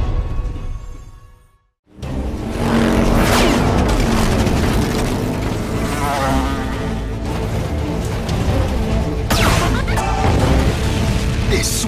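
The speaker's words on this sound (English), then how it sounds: "Is Swick shooting at us?" Loud, dense shooting and crashing from a Slugterra cartoon battle, with booming impacts and bursts layered continuously for about ten seconds after a brief quiet gap.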